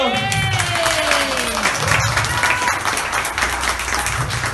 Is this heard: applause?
yes